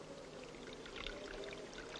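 Water pours steadily over hair being wetted in a shower, a soft continuous splashing stream at moderate distance with no voices.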